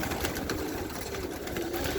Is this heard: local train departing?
no